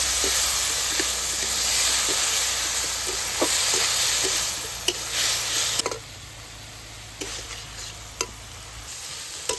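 A spatula stirs banana stem and small fish with spices in a hot pan. Loud, steady sizzling carries scraping strokes at an uneven rhythm, then the frying drops to a softer hiss.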